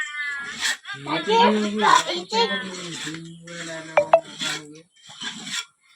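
A cat meows loudly and close by, several drawn-out, wavering cries in succession, with people talking around it.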